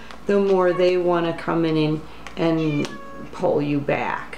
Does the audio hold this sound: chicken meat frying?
no